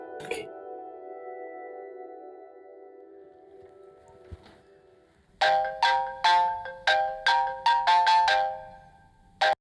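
A phone ringtone plays: a sustained electronic chime, then a rapid melodic sequence of bright, bell-like beeps repeating close and fairly loud.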